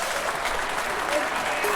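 Steady crowd applause and cheering from a London 2012 Olympics video game, a continuous dense wash of clapping that swells slightly as a rally builds, with speech-like crowd murmur mixed in.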